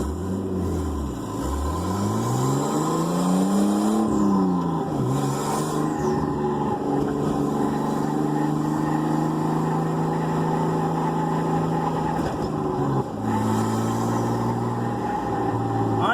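A Datsun car engine with a straight-pipe exhaust idles and revs, its loud rumbling drone rising and falling with several throttle swells before settling into a steady, raspy idle close by.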